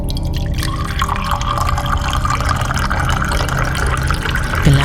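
Water pours and splashes steadily into a barrel, a continuous gushing fill with dripping, close by and fairly loud.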